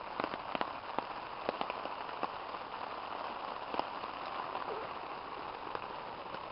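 Steady spring rain patters on a surface nearby on a woodland hiking trail, a dense continuous hiss broken by scattered sharper drips, with no voices.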